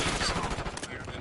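Rapid gunfire from an online match of Call of Duty Black Ops, a quick clattering burst of shots sounding faintly in the background over a brief moment, with no one talking.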